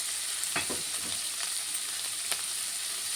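Mixed vegetables such as capsicum and onion frying in hot oil, a steady close sizzle broken by a few scraping stirs.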